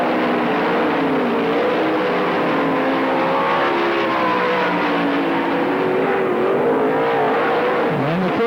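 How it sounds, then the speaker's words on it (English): Sprint cars racing at Tri City Raceway Park, a loud continuous engine roar with pitches sweeping up and down as several cars battle side by side through the turns. "McKisson trying to make a move on Jacoby. Side by side into 1."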